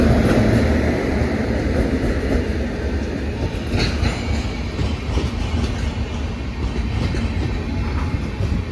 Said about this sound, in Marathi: आणि आपली पण ट्रेन आता सेम टाईम याच ठिकाणी कुडाळ प्लॅटफॉर्मवर येत आहे.